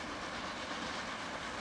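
Train running in the Transport Fever video game, a steady faint rolling rush of rail noise with continuous wheel hiss, alone and unchanging.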